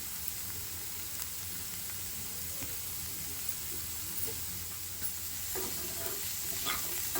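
Paneer bhurji with mixed vegetables gets stirred in a pan, faint continuous sizzling with soft scraping strokes of the spoon that grow a little busier toward the end.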